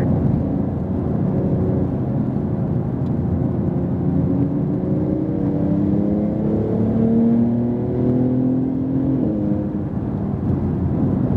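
Porsche 911 Turbo S on a racing circuit, its engine droning steadily and rising in pitch as it accelerates, with harmonics climbing through the gears and a sustained close rumble throughout.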